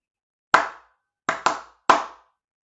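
Hands clap a short rhythm during a morning mindfulness session: one sharp clap, a pause, two quick claps close together, then a final clap. The claps are near and crisp with silence between them.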